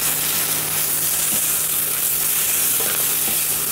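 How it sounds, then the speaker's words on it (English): Baby spinach seasoned with pepper and salt fries in a pan, giving a loud, dense, continuous sizzle that stays close and steady throughout, with no voices. "Just a quick little fry off."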